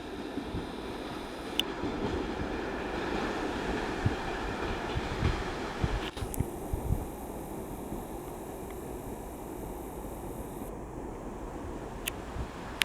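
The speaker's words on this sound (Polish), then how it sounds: "Pociąg PKP Intercity Łebsko do stacji Łeba odjeżdża ze stacji Jelenia Góra." The PKP Intercity Łebsko passenger train pulls out of Jelenia Góra station with a steady low rumble of wheels and carriages, occasional sharp clicks over rail joints, heard from nearby and continuing the whole time.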